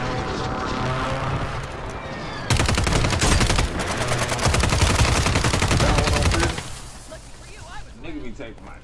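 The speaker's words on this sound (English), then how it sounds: "you got to shoot your gun a little bit" Rapid automatic gunfire in Call of Duty: Warzone on Rebirth Island, a dense burst of shots lasting several seconds between quieter stretches, with players talking over the game sounds.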